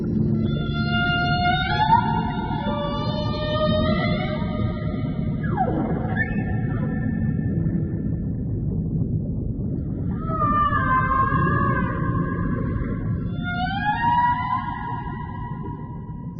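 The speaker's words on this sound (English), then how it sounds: "Males can create a complex song to attract mates, which can last 10 to 20 minutes." Humpback whale song carries through the water as long, sliding moans and rising and falling whistle-like calls in repeated phrases, with a deep continuous underwater rumble beneath, steady and fairly loud throughout with no voices.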